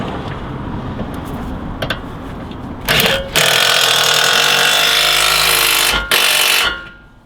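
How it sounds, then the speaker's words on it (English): On a Ford Fiesta ST180 exhaust back box delete, a power ratchet whirs loudly in two short bursts to run up the bolts, after some quieter clicks and background noise. "Work them up with a ratchet."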